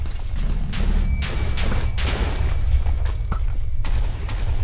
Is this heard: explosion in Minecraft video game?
yes